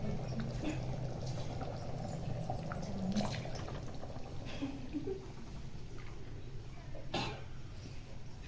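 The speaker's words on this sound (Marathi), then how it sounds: "घ्या पुन्हा पाणी टाका." Water is poured into mutton curry in a village kitchen, a quiet, continuous splashing and trickling heard close up against low background noise.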